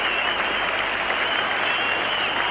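A cricket crowd at the 1975 World Cup match between India and England, applauding batsman Dennis Amiss with sustained, even clapping that fills the ground, faint and distant.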